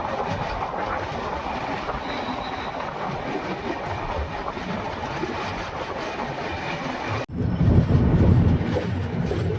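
The 18574 Bhagat Ki Kothi Visakhapatnam Express rumbles along a double line as it begins slowing toward a station, a steady close roar of wheels and carriages that shifts abruptly to a deeper, heavier rumble near the end.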